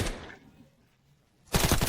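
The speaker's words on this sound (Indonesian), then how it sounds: "tapi ada tembakan" Automatic gunfire rattles in the shooter game Delta Force, a short loud burst fading out, then a second rapid burst starting abruptly near the end.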